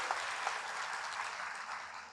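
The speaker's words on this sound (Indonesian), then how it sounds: "Tepuk tangan untuk Mbak Kade ini ya." Audience applause at a public kickoff event on stunting prevention, a steady wash of many hands clapping with a few sharper claps standing out, sustained and fading slightly toward the end.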